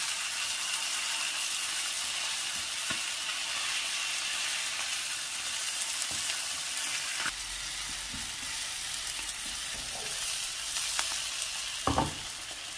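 Sardines frying in a pan give a steady, close hiss and sizzle throughout, with a few faint clicks and scrapes as the fish are turned over. No one talks.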